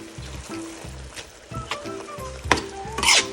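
Ground lamb stuffing being mixed and cooked in a pan, with a soft sizzle under scraping and stirring strokes and a louder scrape near the end.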